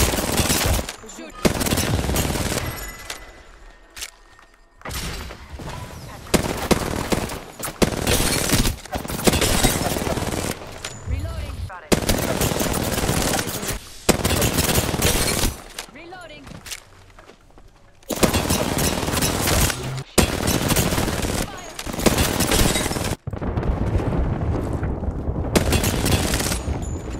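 Heavy automatic gunfire from Apex Legends rattles in long loud bursts broken by short gaps, with booming impacts mixed in and voices talking briefly over the action.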